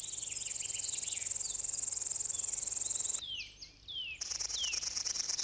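Male grasshoppers stridulating by vibrating their wings, a dense rapid high-pitched buzzing trill that runs continuously, briefly drops out, then resumes, with faint bird chirps scattered behind.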